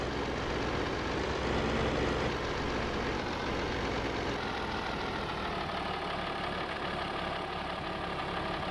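A tractor engine idles in the video game Farming Simulator 22, a steady, low, even rumble that holds without change, fairly quiet and with no talk over it.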